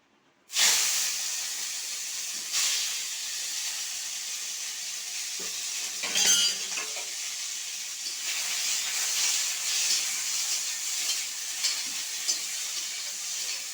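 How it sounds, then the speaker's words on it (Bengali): Prawns fry in oil in a hot wok, starting with a sudden loud hiss as they go in, then settling into a steady, bright sizzle with occasional stirring and a brief flare of spitting midway. "কড়াইতে একটু তেল দিয়ে প্রথমে আমি চিংড়ি মাছটা ভেজে নেব"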